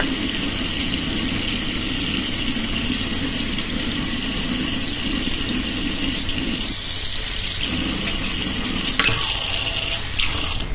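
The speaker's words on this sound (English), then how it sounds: "So what I'm going to show you guys is how I wash my veggies and how mostly I wash them." Tap water pours continuously into a kitchen sink while vegetables are washed, a loud steady rushing stream with a low background hum and a few small knocks near the end.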